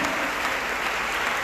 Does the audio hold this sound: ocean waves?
no